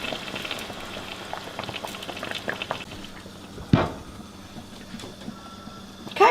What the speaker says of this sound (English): you can see we're boiling it good